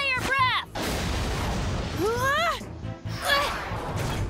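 Cartoon Dimetrodon dinosaur unleashing a fire breath attack, a loud sustained roaring blast with heavy crackling impacts, and voiced cries rising and falling over it.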